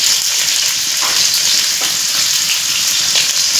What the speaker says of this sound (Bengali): তেলটা গরম হয়ে গেছে, এখন কেটে ধুয়ে রাখা আলুগুলো ভেজে নেব।